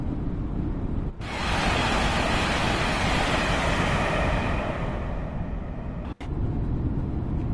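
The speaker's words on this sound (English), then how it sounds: "Train sounds like it has a jet engine." Voyager train running in the video game Train Sim World 6, a loud broad roaring rush like a jet engine that cuts in abruptly, holds steady, then briefly drops out and resumes.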